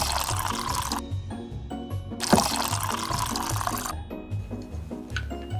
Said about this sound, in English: Here, let me pour some for me and Emily